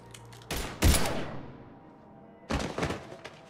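Bursts of gunfire sound in the video game Mass Effect 3. Two sharp, loud volleys of rapid shots are separated by a quieter gap, with no talk heard.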